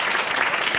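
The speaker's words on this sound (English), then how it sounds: "I just want you to all give her a clap from us." Audience applause at an academic festschrift session, a dense, steady wash of many hands clapping together throughout, with no voices over it.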